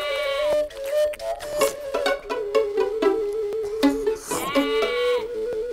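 Sheep bleat repeatedly in a farm pen, several wavering calls overlapping at close range over a low background murmur, with no talking.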